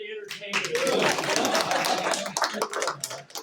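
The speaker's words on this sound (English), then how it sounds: "Round of applause for the" An audience at a chamber of commerce morning program breaks into a round of applause, dense close clapping from many hands that swells, holds, then thins out into scattered claps.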